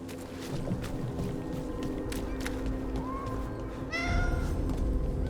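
A cat in the video game Dragon Age: The Veilguard gives a short meow and then a longer, louder drawn-out one over steady ambient game background sound.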